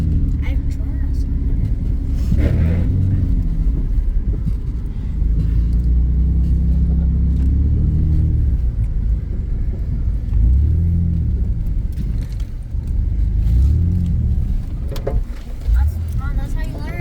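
Mud truck engine rumbling steadily while driving through mud pits, a loud continuous low drone that swells and dips throughout, with people talking over it.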